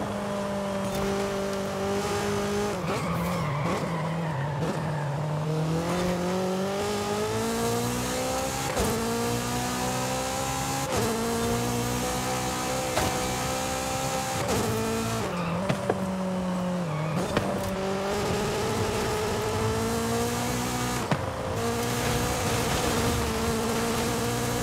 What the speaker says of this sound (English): It sounds like VTEC is kicking in